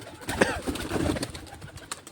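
Pet pigeons released from their coop give a few soft coos close by, with brief rustling and movement over about two seconds, and no talk.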